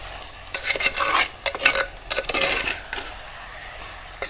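Chicken being stirred in a handi with Kashmiri chili powder just added, giving close, uneven scraping and rustling strokes in bursts over a light sizzle, with no talking.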